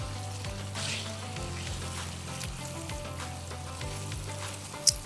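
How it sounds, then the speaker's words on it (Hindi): White chicken karahi with dried fenugreek frying in a pan, a continuous close sizzle with soft stirring noises, steady in level, an electrical hum beneath it and no talking. "थोरी कसूरी मेथी शामिलु कईसीं, थोरो हिनखे भुञूं था"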